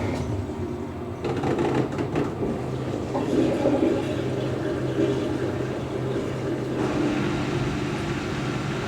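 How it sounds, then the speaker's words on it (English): A Siemens IQ300 WD14H320GB washer dryer flushes its condenser with water, making a steady, close rushing and gurgling wash with a few brief clicks, continuous and loud from start to finish. "Flushing out the condenser."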